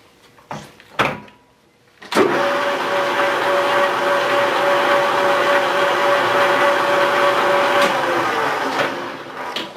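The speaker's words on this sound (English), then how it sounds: "I can kind of listen to the RPMs of the machine, and it's not too far out of balance" A metal lathe turns a bronze casting. After a few knocks and a clunk it spins up into a steady whirring drone with a sustained tonal whine, running evenly for several seconds before easing off.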